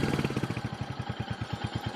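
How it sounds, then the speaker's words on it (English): A 2023 Royal Enfield Hunter 350 motorcycle exhaust idles with a steady, even thumping pulse, heard close up and alone. "I want you to hear the exhaust"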